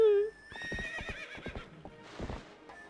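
Epona the horse in The Legend of Zelda: Twilight Princess HD lets out a loud whinny, followed by a run of hoof clip-clops and snorting, with a voice speaking briefly over the hooves.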